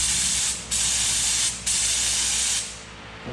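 Spray paint hisses onto a Nissan S13 car in three close, steady bursts separated by brief pauses, the last one trailing off into quiet.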